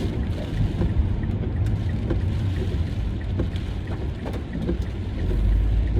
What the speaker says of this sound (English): Water everywhere, splashing